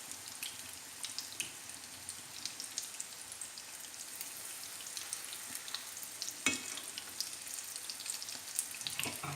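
Homemade meat nuggets, pressed flat, fry in a pan with a faint, steady crackling sizzle and an occasional soft clink.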